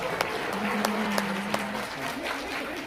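Audience applause at a live acro cats show, a loose scattering of claps over a steady low hum and busy room noise, fairly quiet and distant.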